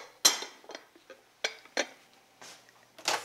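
A lid snapped onto a microwavable container holding cauliflower and a little water in a kitchen, giving a few sharp plastic clicks and clinks, close and fairly quiet, with no talk.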